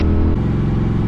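Loud, steady engine rumble of a motorcycle riding a mountain road between Walhalla, SC and Highlands, NC, a close continuous drone with a slight shift in pitch.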